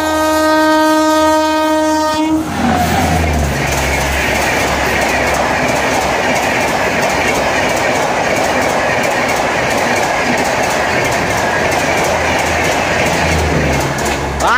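WAG-9HC electric locomotive hauling a BCNAHL freight train on the Western Dedicated Freight Corridor sounds a loud sustained horn for about two seconds, then thunders past close by with dense rumbling wheel and wagon noise that continues to the end.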